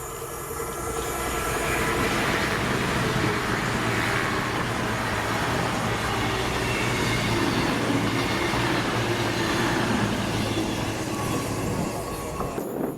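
Passenger train led by unit 220005 coupled to 221141 rolls past in a steady, loud continuous rumble with broadband wheel and engine roar, sustained throughout with no talk.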